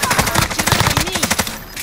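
Rapid automatic gunfire in the video game Call of Duty: Modern Warfare, dense rattling bursts filling the whole moment, loud and close with in-game sounds layered over it.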